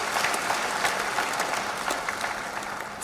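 Delegates at a government and private-sector consultation meeting applaud to adopt amended recommendations by acclamation, a sustained burst of many hands clapping at an even, moderately loud level for about three seconds.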